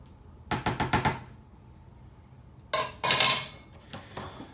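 Juneberry wine mixture is stirred in a pot: a quick run of five metallic clinks of a utensil against the pot, then louder scraping clatters and a final knock, close and without talk.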